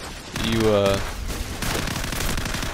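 Gunfire in the video game Call of Duty 4, a short burst of rapid automatic shots with some background game noise, moderately loud, followed by scattered softer sounds.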